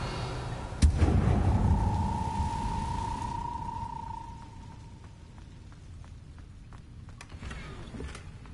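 Incendio fire spell cast in Hogwarts Legacy: a sharp impact followed by a roaring, rumbling whoosh with a sustained tone that fades over a few seconds, then faint clicks; no talk.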